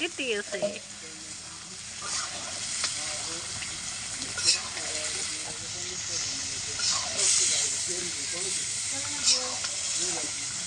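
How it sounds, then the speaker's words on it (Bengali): Poultry chicken cooks in a pot at home, giving off a broad steamy hiss and sizzle with occasional stirring clatter, while voices murmur in the background. "পোল্ট্রি মুরগি রান্না করা হচ্ছে"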